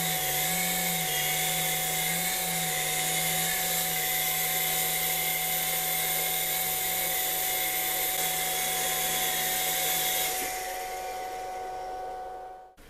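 A V398 mini radio-control beginner helicopter flies nearby with a steady high-pitched motor and rotor whine at constant pitch, holding for about ten seconds before winding down and stopping as it lands.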